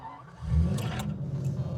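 A Jaguar XJS with a V12 engine accelerates in a short, deep burst. The low engine rumble swells quickly and holds steady, with a faint rushing noise on top.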